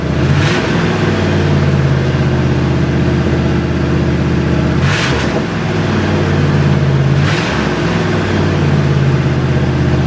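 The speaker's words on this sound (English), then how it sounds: "Nice crisp throttle response now that the accelerator pump's working again." A Ford LTD's carbureted engine, just repaired at the accelerator pump, idles loudly and is blipped sharply twice, each rev rising quickly and falling back to a rough, steady idle.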